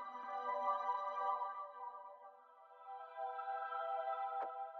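A soft, sustained Venus synth pad from Loophole plays alone, with steady harmonic tones swelling and fading slowly under a gentle sidechain pump and a faint click near the end.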